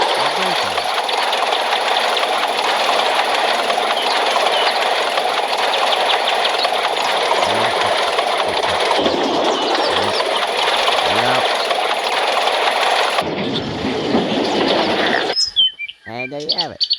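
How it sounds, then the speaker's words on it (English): Steady engine and machinery rumble from a train video game plays loud and continuous, with brief squeals and crash-like jolts near the end as the engine rams into the sheds. "just ram your engine into the sheds, where you can crash them"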